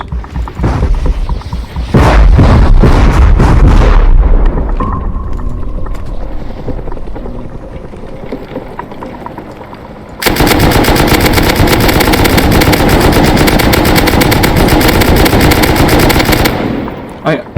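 In the video game Rust, a helicopter battle rages with heavy rapid machine-gun bursts and booming shots, a droning rotor between volleys, then a long sustained stretch of loud automatic fire.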